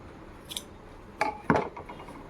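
Scissors snip through material a few times in a quiet room, with sharp metallic cuts close by and clustered near the end.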